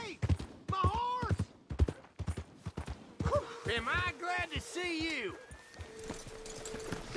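Horse hooves clip-clop with a brief whinny in the video game Red Dead Redemption 2, under a voice speaking cheerfully over the sounds.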